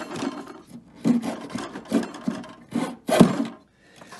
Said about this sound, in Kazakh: қазір домбыраның тиегін істегенде мынандай қылып осында екі жағын жонып аласың